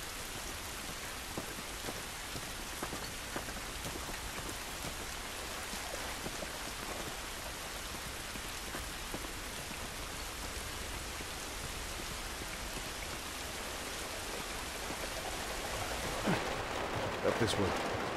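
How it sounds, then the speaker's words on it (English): Steady rain falls in the video game The Last of Us Remastered, a dense hiss of drops on surfaces that continues throughout at a constant, moderate level. "This rain ain't gonna do us any good."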